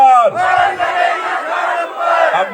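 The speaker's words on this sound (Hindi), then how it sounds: "तो एक बार मेरे साथ नारा जरा लगाना" A large crowd at an Aam Aadmi Party public meeting in Haldwani shouts a political slogan in unison, a loud, sustained chorus of voices with rising and falling phrases.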